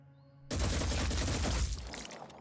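A burst of gunfire in the turn-based strategy game Phoenix Point erupts abruptly after quiet music, a loud dense volley that rings out and decays.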